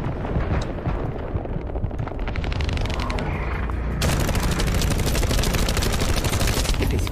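Dense, continuous gunfire and booming blasts from The First Descendant during a Pyromaniac Intercept battle, loud and close with overlapping shots and explosions throughout.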